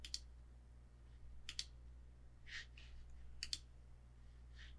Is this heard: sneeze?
no